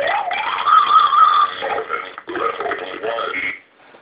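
Harsh, buzzy electronic distortion from a circuit-bent Speak & Math toy, warbling and glitching in two stretches with a brief dropout between, ending in a short fade.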